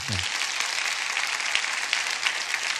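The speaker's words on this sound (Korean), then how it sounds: "저희가 드릴 수 있는 가장 큰 박수로 하나님께 영광 올리도록 하겠습니다." A church congregation at Sunday worship claps in dense, even applause that holds steady throughout, with a brief low sound at the very start.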